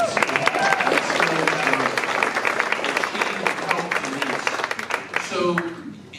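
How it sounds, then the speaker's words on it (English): Applause from an audience in a room, dense and sustained for several seconds, with voices mixed in and a brief tail at the end as the clapping thins. "let's give Meg a round of applause"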